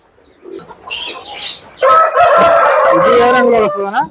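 A double-bodied Salem Aseel rooster gives a loud, close crow lasting about two seconds, ending in a rising tail, after a few softer clucking sounds.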